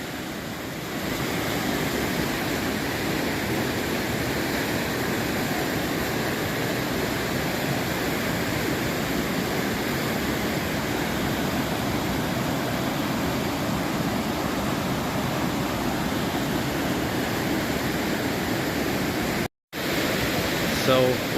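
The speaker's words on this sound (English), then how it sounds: "So we're at the top of the first waterfall." A waterfall on the Falls Trail in Ricketts Glen State Park rushes in a steady, broadband roar heard from near its top, continuous and loud for the whole stretch, briefly cutting out near the end.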